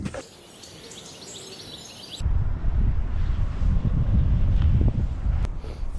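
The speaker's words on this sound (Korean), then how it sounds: "오늘은 어우 바람도 너무 많이 불고" Strong, cold winter wind buffets the microphone on an outdoor walk. After a brief quieter hiss, the gusts turn into a loud, low, rolling rumble that lasts to the end.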